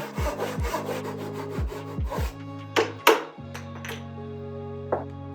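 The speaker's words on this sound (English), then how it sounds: "I sharpened a chisel to pair the shelf and got it around at 6 out of 10 sharp." A chisel is sharpened by hand in a workshop with a wood stove lit: a run of near, rhythmic rubbing strokes, then a few sharper scrapes and a light metallic ping, with a low steady hum underneath and no talking.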